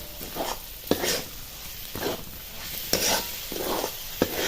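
A spoon stirs peanut paste into a simmering bean curry in a pan, making repeated scraping strokes with soft sizzling underneath and occasional light clinks against the pan.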